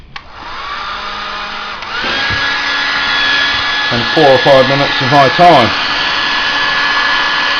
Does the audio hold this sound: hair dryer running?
yes